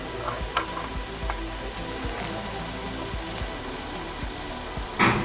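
Radish frying in a pan, a dense crackling sizzle with scattered pops and light scraping, ending in a louder clatter.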